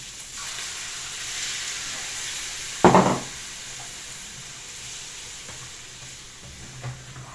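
Sausage fried rice fries in a pan with a steady soft sizzle, and a sharp, louder burst of frying marks the moment instant Mama noodles are added, then it settles back to a gentle hiss.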